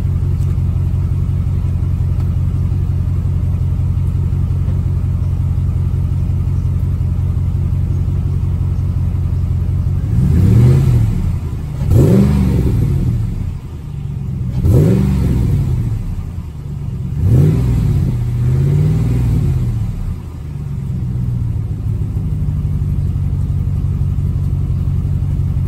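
A 2018 Ram 1500 pickup engine idles with a deep rumble, then is revved several times in bursts through a throaty Mufflex DOD24M muffler before settling back to idle.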